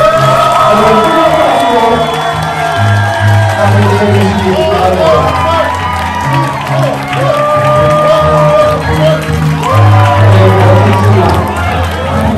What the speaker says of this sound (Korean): 여러분의 뜨거운 박수와 아낌없는 격려 부탁드리겠습니다